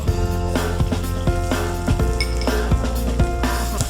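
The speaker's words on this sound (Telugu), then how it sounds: "అది వేడెక్కిన తర్వాత ఆనియన్స్ వేద్దాం." Cumin and onions crackle and spit in hot oil for a mutton curry, a close sizzle broken by sharp clinks and taps of a utensil against the pan.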